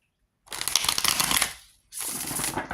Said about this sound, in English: Now, I had to make sure I shuffled at least 8 times there